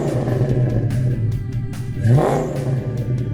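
A Ford 302 Cleveland V8 engine, the kind raced at Bathurst in the John Goss Special, rumbles steadily, then rises in a single sharp rev near the middle before settling back to a throaty idle.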